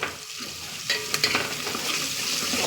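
Spices such as red chilli, asafoetida, coriander powder and Punjabi garam masala frying in a pan for masala dal, a soft steady sizzle with scraping stirring strokes breaking in, close and moderately quiet.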